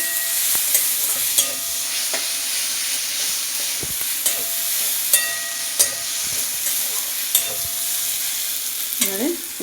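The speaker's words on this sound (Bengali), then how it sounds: "এতে দিয়ে দেবো আদা রসুন বাটা ভেজে নেবো" Ginger garlic paste frying in a pan for a country chicken curry gives a steady, close sizzle throughout, broken by occasional sharp spoon clicks and scrapes against the pan.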